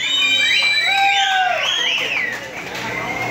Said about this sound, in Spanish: No gritos, dije aplausos.